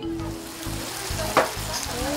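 Pork stir-frying in a pan, a steady close sizzle with faint stirring scrapes, fairly quiet.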